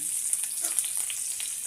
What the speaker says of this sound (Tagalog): So, prito tayo ng hotdog.